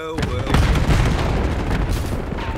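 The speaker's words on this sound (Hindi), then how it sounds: "मैंने वैसे ही ग्रेनेड फेंक दी" A frag grenade goes off in a Call of Duty Black Ops 6 Hardpoint match on Nuketown, giving a loud, sustained boom with rumbling gunfire mixed in that fills the whole moment.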